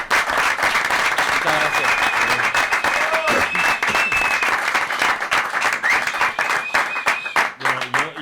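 A stadium crowd at Montilivi in Girona applauds a footballer, loud continuous clapping and crowd noise throughout, with a voice briefly speaking over the ovation and cheers rising near the end.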